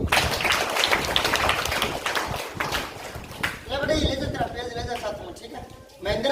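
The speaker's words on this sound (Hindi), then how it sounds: "ताली दो एमए के लिए।" A Hindi school class claps for a classmate, a brisk, close round of hand claps for the first few seconds that then gives way to a teacher talking.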